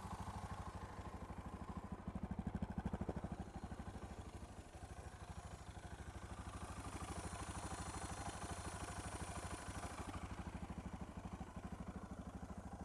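A Suzuki DR650SE motorcycle fitted with an FCR-MX carburetor runs steadily close by, its single-cylinder thump pulsing evenly, with a brief rise in revs early on.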